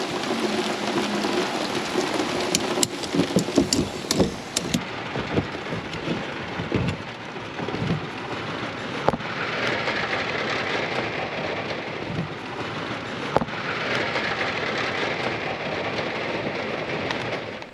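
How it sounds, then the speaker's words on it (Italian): A heavy thunderstorm near Ostuni in Puglia, with steady dense rain hissing on surfaces and several sharp thunder cracks and rumbles breaking through, loud and continuous with no voices. "sta arrivando giù un temporale fortissimo"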